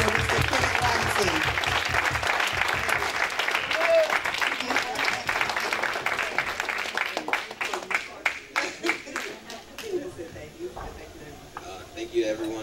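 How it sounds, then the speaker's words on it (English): Audience applause at a civil rights event, steady dense clapping that thins into scattered individual claps toward the end. "Round of applause, please, for Mr. Kemet Robinson."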